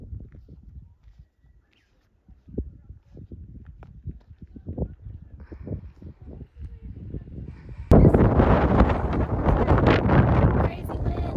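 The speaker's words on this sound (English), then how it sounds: "Crazy wind." Strong wind starts as gusty buffeting over faint thumps, then suddenly roars loud and steady against the microphone for the last few seconds.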